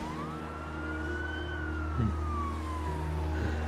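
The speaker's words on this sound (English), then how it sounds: "Siren's coming." A wailing police siren rises and falls in pitch over a steady engine rumble, growing slightly louder as it approaches.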